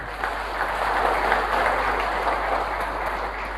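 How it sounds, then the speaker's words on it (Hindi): Audience applause fills a hall at a product presentation, a steady, dense wash of clapping that holds evenly throughout without any voices on top. "इनके लिए एक बार जोरदार तालियां।"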